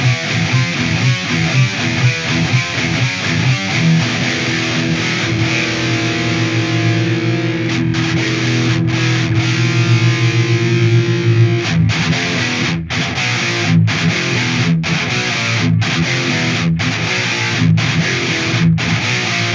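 Heavily distorted electric guitar with a tight metal tone run through a Line 6 HX Stomp, loud and dense for the whole stretch, with sustained chugging riffs broken by sharp rhythmic stops in the second half.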